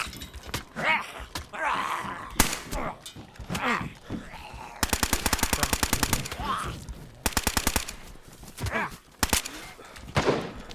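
Bursts of rapid automatic gunfire in an online shooter game set in Livonia, loud repeated volleys with single shots between, while players talk over the fighting.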